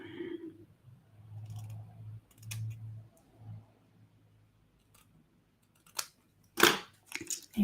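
Paper trimmed with scissors: a few sharp, crisp snips and rustles close by toward the end, after a quiet stretch with a soft low hum.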